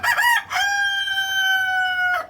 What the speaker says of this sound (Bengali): এটা হচ্ছে ব্রাহ্মা মুরগি